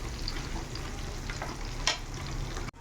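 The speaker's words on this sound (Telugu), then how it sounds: "ఇవన్నీ మనం దీంట్లోకి ఆయిల్లోకి ట్రాన్స్ఫర్ చేసేసుకొనేసి కొద్దిగా ఫ్రై చేసుకోవాలి" Ginger and garlic frying in hot oil in a pan, a dense, steady sizzle that holds at an even level, with one brief scrape or stir near the end, close up and without any voices.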